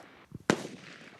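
A single sharp gunshot at military cadet shooting training cracks out loud and close, preceded by a faint thump, then fades into quiet background noise.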